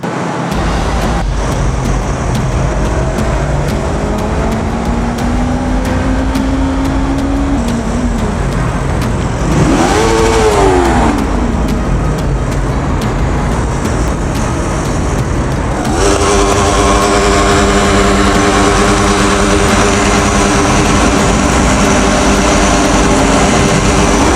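A Yamaha R25 motorcycle with an open exhaust runs loud and close for a sustained stretch, its engine note climbing and falling through revs and gear changes over rushing road noise.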